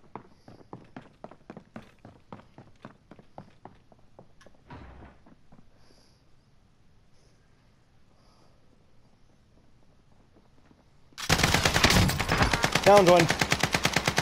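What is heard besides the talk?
gunfire in the video game Warzone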